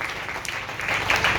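A church congregation applauding, a short burst of steady, fairly dense clapping heard from within the room with no gaps.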